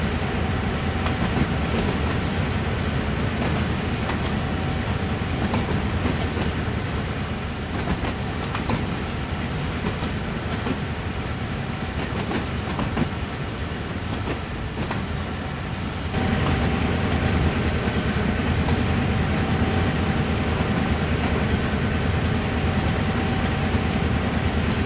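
Simulated freight train on Horseshoe Curve in Train Sim World 4, a steady loud rumble of wheels and engine with faint rail clatter throughout, a brief dip then a louder stretch.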